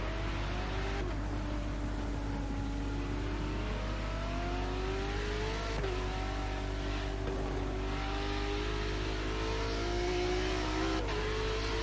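Race car engine heard on board a green McLaren at Silverstone, loud and continuous, revving up and down through repeated gear changes with rising and falling pitch across the lap.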